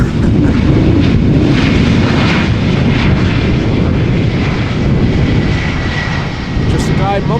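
A crosswind landing of an Airbus A321 at Amsterdam Schiphol: loud, steady jet engine roar and rushing wind noise fill the clip throughout, with a faint voice talking beneath.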